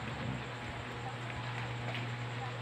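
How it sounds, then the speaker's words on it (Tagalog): Heavy rain falls throughout, a continuous hiss of drops on surfaces with a low background hum underneath. "malakas siya talaga thank you very much Lord uh, umuulan na din sa wakas"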